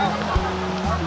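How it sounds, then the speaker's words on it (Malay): Steady broadband rush of river water flowing at Sungai Congkak, a nature spot near Kuala Lumpur, constant and fairly close, with faint low thumps and no clear speech. "so inilah sungai dia"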